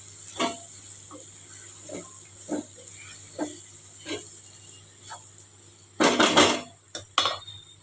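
A lid clatters onto a cooking pot of brinjal and pea curry seasoned with salt, chilli and turmeric: soft scattered clinks, then a loud metallic clank and rattle, with one more sharp knock just after.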